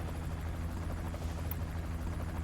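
Helicopter in the video game Final Fantasy VII: Ever Crisis, a steady dense rotor drone and engine hum that fills the whole stretch evenly, with no one talking over it.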